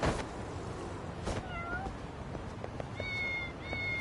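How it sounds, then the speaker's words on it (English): Cats meow in the video game Lost Judgment, several short rising meows close by over a low, noisy background. "I'm gonna bond with my cats. Hello, cats."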